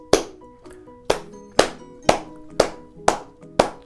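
A brisk run of about seven hand claps at an even half-second spacing, an eighth-note pulse for a children's music lesson, close, bright and evenly loud with no speech.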